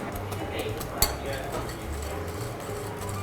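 A whisk stirring mango puree gently in a pan, making a steady soft scraping with rhythmic metallic swishes and one sharper clink partway through.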